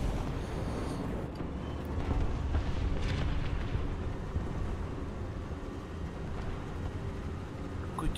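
Anti-aircraft gunfire from a ZSD63/PG97 self-propelled anti-aircraft gun in War Thunder, a loud rumbling barrage of booming shots and explosions rolling continuously, with no voices.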